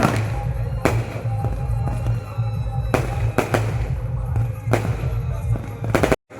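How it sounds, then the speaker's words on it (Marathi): Repeated sharp firecracker bangs burst out at irregular intervals before a cricket final, over a constant low rumble of crowd and outdoor noise. "फायनलच्या आधीच हे आहे फटाके"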